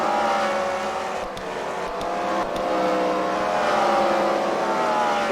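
Race cars run on a track at the Freedom Factory, a sustained, loud engine drone with revs rising and falling and a few sharp clicks, no talking.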